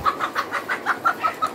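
Laying hens cluck close by in a quick, even rhythm of about nine short clucks, with nothing else heard.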